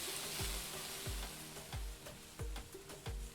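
Onions, chilies and tomatoes sizzle steadily in a pan in the cooking game Venba, a loud continuous fry with regular soft stirring knocks repeating about every half second.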